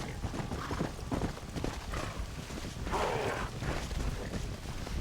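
Horse hooves clip-clop in a steady ridden gait in Red Dead Redemption: Undead Nightmare, a continuous game soundtrack of rhythmic hoof falls with a brief brighter burst of noise partway through.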